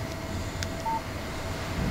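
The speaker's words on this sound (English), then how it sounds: "Text message from Barry." A phone in the video game Alan Wake gives a single short, clean electronic beep as a text message alert, standing out over a quiet ambient background.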